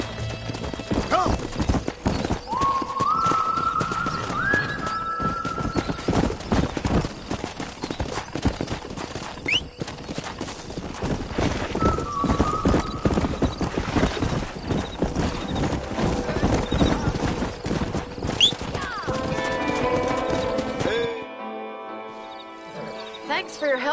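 Horses in the video game Red Dead Redemption, rapid hoofbeat clip-clop running continuously with several shrill neighs and whinnies rising above, a voice coming in briefly, the hooves cutting off near the end.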